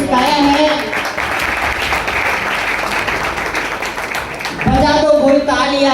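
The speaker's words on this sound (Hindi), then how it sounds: "जबरदस्त जोरदार तालियां" Loud, vigorous applause from an audience at a Hindi stage event, sustained clapping that swells near the end, with voices and background talk mixed underneath.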